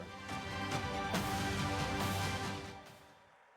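A crowd at the 2023 University of Washington Husky Hall of Fame ceremony applauds inductee Steve Pelluer, dense sustained clapping that swells and then fades away.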